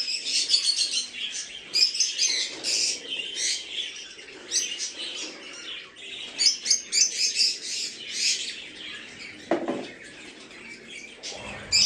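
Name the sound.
caged birds chirping in a breeder's aviary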